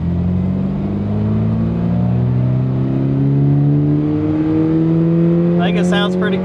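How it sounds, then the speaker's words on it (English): A Toyota GR86 engine pulls hard as the car accelerates onto a highway, a loud steady drone rising in pitch throughout, with a brief burst of other noise near the end. "Let's pull onto the highway so we can hear what this thing sounds like."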